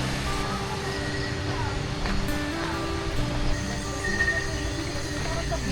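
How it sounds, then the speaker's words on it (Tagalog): A river rushes beside a riverside camping site's tents, a steady broadband wash of flowing water with a voice talking over it. "Maririnig natin dito yung lagas-gas ng ilog kasi nasa pinakatabi lang siya ng mga tent."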